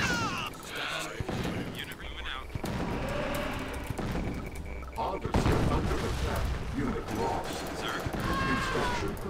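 Harvester bombs exploding in Tiberian Sun, a dense barrage of overlapping blasts and crackling detonations, loud and continuous with mechanical clatter under the chaos.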